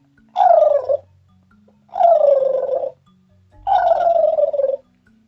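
Three drawn-out gobbling calls, each about half a second to a second long with short pauses between them, imitate a domestic turkey. They are delivered by a human voice, close and clear, with no other sound behind them.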